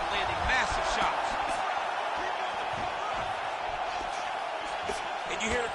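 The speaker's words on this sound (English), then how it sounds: "you hear the crowd react every time they come together" Arena crowd in the UFC 5 video game roaring and reacting to punches landing in a boxing-style exchange, a steady dense crowd noise with rising surges throughout.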